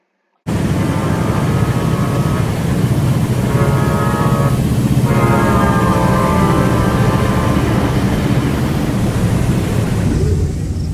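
A loud, sustained train horn in Roblox Tri-Rail Simulator blares with harmonic tones over heavy rumbling noise, sounding in two long blasts before fading.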